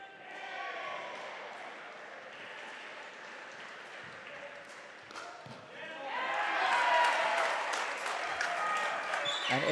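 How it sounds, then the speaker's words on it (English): A pro pickleball crowd at a Melbourne show court cheers and applauds a point, the clapping swelling louder toward the end, with paddle pops and commentary voices mixed in. "every time the Mavs get a point, you can just hear the crowd get more and more into this game"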